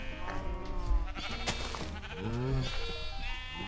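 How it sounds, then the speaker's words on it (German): Sheep bleat repeatedly in the video game Minecraft, several wavering calls in succession over faint game sounds, with someone talking now and then. "Schaf. Schaf. Nee. Schaf. Schaf."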